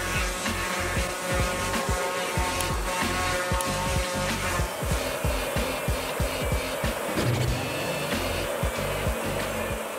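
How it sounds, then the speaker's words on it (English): Modern factory cutting machinery saws wood into smaller pieces and shaped parts, a loud continuous mechanical roar with a rapid repeating chop-like pulsing throughout, running steadily at close range. "Cutting machinery will cut wood into smaller pieces or create specific shapes according to pre-programmed designs"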